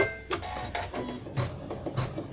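An embroidery machine sews a blanket stitch around a hat appliqué, with close, repeated mechanical clacks and whirring pulses at a fairly regular pace.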